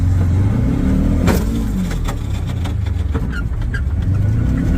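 A snow plow vehicle's engine revs hard and steadily while the gear has not fully engaged, a loud, close, rough drone with a few clunks and knocks over it.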